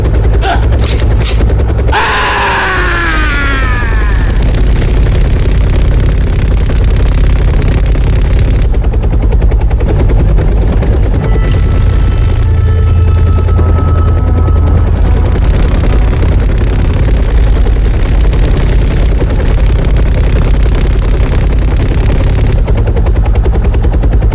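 Loud, sustained machine gun fire rattles in a battle scene over a constant droning engine or rotor roar. The dense noise runs the whole time with no pauses.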